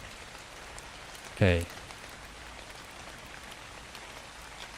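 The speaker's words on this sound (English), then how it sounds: "Luckily, it's raining at the moment." Steady rain falls in the dinosaur survival game ARK: Survival Ascended as a constant soft hiss throughout, and someone briefly speaks a single word over it.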